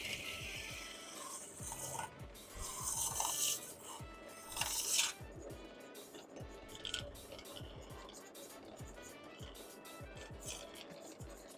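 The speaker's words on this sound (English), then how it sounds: "a big plug of wood shavings there. Dig them all out." A woodturning tool scrapes and digs a plug of wood shavings out of a turned bowl, making repeated rasping scrapes and gritty rubbing with a few brighter scratchy bursts, steady throughout.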